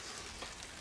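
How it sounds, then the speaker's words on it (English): Light rain falls outdoors near a hen house, a faint, steady hiss of drops pattering on surfaces with no clear pauses, soft and even throughout. "it's starting to rain here"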